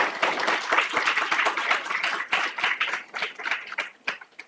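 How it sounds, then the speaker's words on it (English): An audience claps in a lecture-hall setting at a humanities conversation event, with individual claps audible and the sound thinning out toward the end. "Another round of applause"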